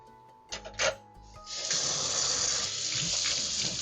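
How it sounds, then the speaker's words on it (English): Tap water runs steadily into a kitchen sink while a cutting board is washed, with a few brief knocks at the start before the broadband gush rises and holds, close and fairly loud. "Is it too loud? Is the water too loud?"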